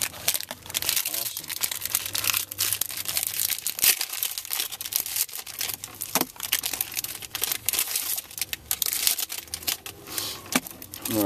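Packs of 2011 Topps Chrome football cards being torn open in quick succession, with dense crinkling foil wrappers and sharp tearing rips, close and loud, while voices talk intermittently.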